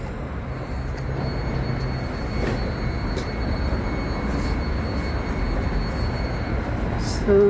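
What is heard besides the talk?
inside a moving Caltrain train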